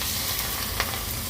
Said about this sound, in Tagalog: Tapos bubuhusan natin ng mainit na mantika